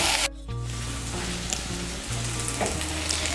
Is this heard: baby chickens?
no